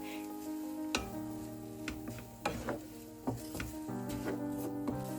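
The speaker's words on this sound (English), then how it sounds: "Add the chopped ginger into the pan and let it sizzle for a few seconds" Gentle, steady sizzling of chopped ginger frying in a pan, with a few soft clicks and taps of a utensil stirring, quiet and close.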